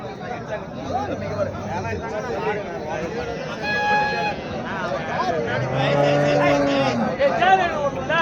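Cattle low at a busy cow market in Tharapuram, deep moos rising amid constant crowd babble and nearby traders talking, with engine noise in the background.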